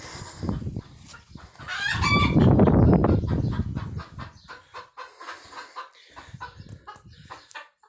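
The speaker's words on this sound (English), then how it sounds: "She's squawking like she laid an egg" A hen squawks loudly and repeatedly nearby after laying an egg on a farm, a burst of agitated clucking that swells and then trails into scattered calls.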